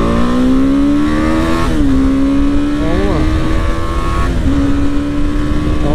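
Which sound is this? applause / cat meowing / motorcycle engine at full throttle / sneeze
motorcycle engine at full throttle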